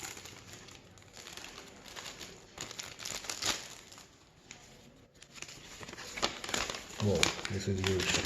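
Paper instruction manual for Sony WI-XB400 and pTron Bassbuds Pro wireless earphones being unfolded and handled, with crinkling and rustling bursts close by, running alongside and between a person's speech.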